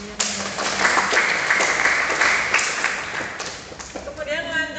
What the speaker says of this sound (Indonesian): Kita berikan aplaus untuk jawaban dari yang menjawab.